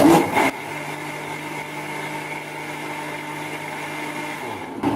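A blender crushes dragon fruit for a shake with a steady, mid-pitched motor whir that runs continuously for several seconds, and a brief clatter marks the start and the end.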